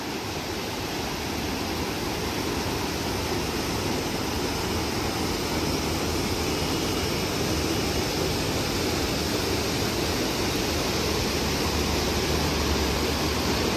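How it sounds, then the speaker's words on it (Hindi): Roaring waterfall beside a flood-damaged national highway near Manali, a dense, constant rush of falling water that stays loud and unbroken for about fourteen seconds with no voices. "ये देखो सामने से कितना बढ़िया जो है झरना बह रहा है।"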